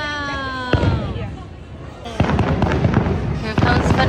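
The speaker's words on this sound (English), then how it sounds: "Wow, look, fireworks." Fireworks bursting at a Disney park, several sharp cracks and booms spaced a second or two apart over a crackling wash, with a crowd murmuring and people chatting nearby.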